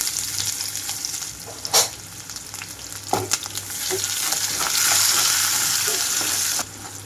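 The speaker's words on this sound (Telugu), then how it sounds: "ఆయిల్ అంతా హీట్ అయ్యాక కట్ చేసి పెట్టుకున్నాను ఉల్లిపాయలు మొత్తం వేస్తున్నాను" Chopped onions frying in hot oil for a gongura meal maker curry, a loud close sizzle with spatula scrapes and knocks, the hiss swelling toward the end, with no talking.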